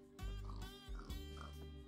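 A Minecraft pig grunts and oinks in a few low, nasal snorts close up, with no talk over them.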